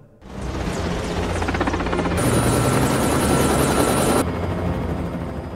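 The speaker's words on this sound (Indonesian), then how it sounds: "Lalu tidak lama kemudian helikopter segera berangkat" A helicopter roars continuously, its rotor thumping steadily and engine growing louder as it powers up, loud and close.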